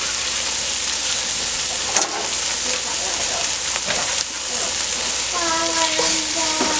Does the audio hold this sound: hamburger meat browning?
yes